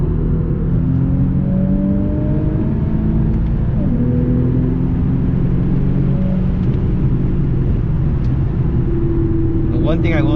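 A 2018-or-later Infiniti Q50 engine pulls hard toward 5,000 RPM, its rising drone climbing through steady gear pulls as a loud, close cabin rumble that continues throughout.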